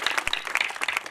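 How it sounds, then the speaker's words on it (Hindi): Brief, lively clapping from an audience at a school's Swami Vivekananda Jayanti celebration, close and bright with uneven bursts of hands over a short span. "तालियां तालियां।"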